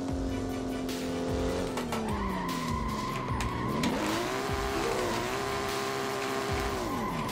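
A BMW M2 tuned to 800 horsepower drifts around the Nürburgring in the Assetto Corsa racing game, its engine whining and shifting pitch over sustained tire squeal, loud and close the whole time.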